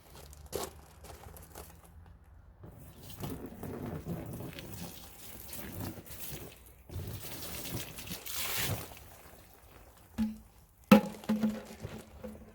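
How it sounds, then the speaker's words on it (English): Water poured over the outside of a Tactical Rush24 backpack in a water resistance test, a soft trickling and splashing that comes in uneven bursts, with fabric crinkling and a few louder knocks toward the end. "Pouring it from the outside and then opening up, see how much water it retains on the inside."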